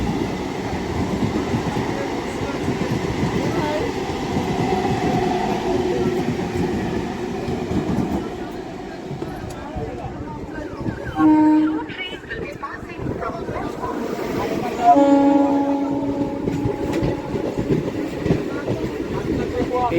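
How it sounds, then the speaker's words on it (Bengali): A Majerhat local train rolls past near Titagarh, heard from another train stopped before the station as a steady, heavy rumble and rattle of wheels and carriages. Voices talk over it, with a couple of brief tonal horn-like notes. "ওদিকে বেরিয়ে যাচ্ছে মাঝেরহাট লোকাল"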